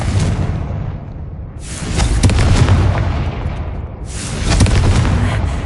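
Deep booming blasts from the Confringo spell in a video game, two heavy explosive surges with rumbling low end and crackling debris, loud and close, fading briefly between them.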